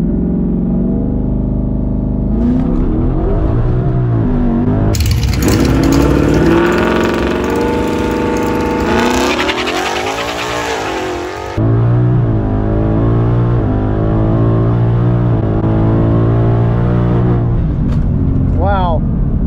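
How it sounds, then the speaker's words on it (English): Twin-turbo 2019 Ford Mustang GT doing a burnout, engine roaring at high revs with a harsh tire-spin hiss, loud and close, a brief dip before the revs surge again. "For a burnout."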